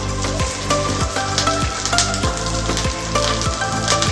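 Ginger, garlic and spices sizzle loudly in hot oil, a constant crackling hiss broken by regular scraping strokes of a spatula about twice a second.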